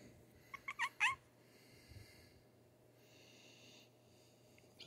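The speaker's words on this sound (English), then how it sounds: "Why are you meowing like that?" A cat being held lets out a quick run of three or four short, high, chirpy meows close up, followed by a few seconds of quiet over a low steady background hum.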